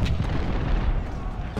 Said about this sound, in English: we continue to fire artillery into Peabody there